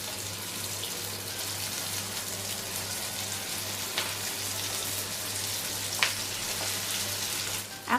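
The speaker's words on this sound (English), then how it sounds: "Just fry until they turn golden brown." Vietnamese spring rolls wrapped in rice paper fry in oil, giving a steady, close sizzle and crackle with a low hum underneath and a couple of sharper pops.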